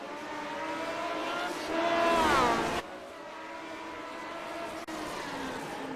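Lotus 49 race cars racing at Zolder, heard as a loud high-pitched engine whine that rises and sweeps as a car passes near, then a steady distant engine drone continues.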